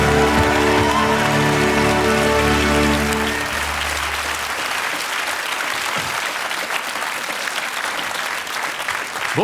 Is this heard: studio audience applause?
yes